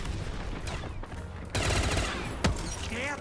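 Rapid automatic weapon fire in a Call of Duty Zombies match, dense bursts of gunshots that swell loudly after a quieter opening, with a short voice near the end.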